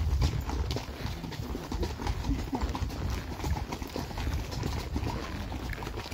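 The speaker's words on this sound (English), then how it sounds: "Horses are trotting up the hill now." Horses trotting uphill on a woodland trail, steady overlapping clip-clop of hooves close by, continuous and moderately loud over faint outdoor background.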